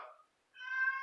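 A pet cat gives a single clear meow, close and fairly loud, following a brief softer vocal sound, with no talking over it.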